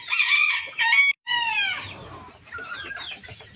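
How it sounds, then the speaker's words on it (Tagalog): A rooster crows loudly and close by among chickens, turkeys and imported bantams on a small mini farm, with clucking and other fowl calls continuing after the crow. "Puro mga pabot, tsaka mga bantam."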